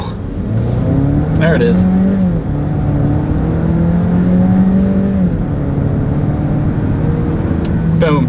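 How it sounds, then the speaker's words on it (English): Engine of a 2026 Volvo XC60 mild hybrid accelerating hard to 60 mph on a straightaway, a loud sustained rising drone with audible gear shifts, heard from inside the cabin while a person briefly speaks. "let's see how quickly we can get our new 2026 Volvo XC60 here up to speed"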